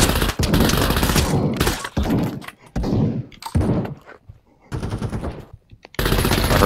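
Bursts of rapid automatic gunfire in the VR shooter Pavlov, set in a datacenter map, come in several loud volleys separated by short gaps, with sharp impacts between them.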